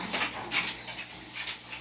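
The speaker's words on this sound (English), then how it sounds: "This dog." A dog whimpers indoors in a few soft, breathy whines, close but faint, with no voices.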